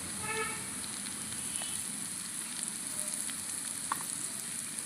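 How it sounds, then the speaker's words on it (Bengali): Potatoes frying in a pan for a fish and thankuni leaf curry, giving a steady, even sizzle with faint crackles throughout, fairly quiet and close, with no voices over it. "আলুগুলো বেশ খানিক সময় ভেজে নিয়েছি"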